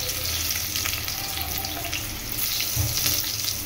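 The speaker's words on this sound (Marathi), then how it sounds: "कांदा भाजून घ्यायचा आपण." Chopped onion frying in hot oil in a pan gives a steady, close, broadband sizzle with faint stirring scrapes and no talk.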